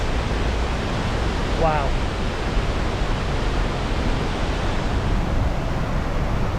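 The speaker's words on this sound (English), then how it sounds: "Now what an epic waterfall this is." A powerful waterfall, Henrhyd Falls in the Brecon Beacons of Wales, roars as a steady, loud broadband rush throughout, close by, with a brief exclamation from a person partway through.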